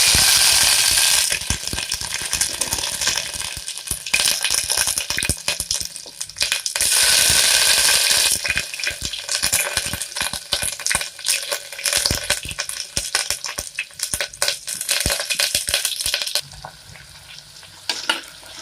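Ginger garlic paste fries in ghee for ghee rice, giving a loud, steady crackling sizzle with busy scraping and clinking from stirring throughout, easing slightly near the end.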